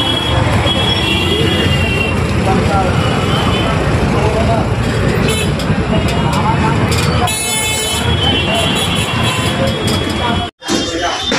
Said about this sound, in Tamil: சுற்றி டிராஃபிக்கை பாருங்கள். பாட்னா உள்ள ஃபுல் டிராஃபிக் ஆகுது.